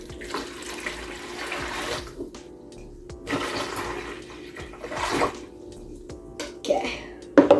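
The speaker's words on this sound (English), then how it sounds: "put my water inside of my large bowl." Water from a tap runs into a large bowl in short bursts, splashing and trickling at moderate distance, with quiet pauses between pours as the bowl is prepared for cleaning an e-scooter.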